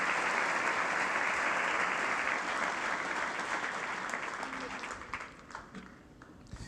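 Church congregation applauding in a steady, dense wash of clapping that fades and thins out toward the end.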